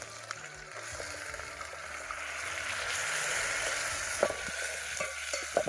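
Onion frying in a pan for village-style kantola curry sizzles continuously and close by, swelling slightly midway, with scattered clicks and scrapes of stirring toward the end.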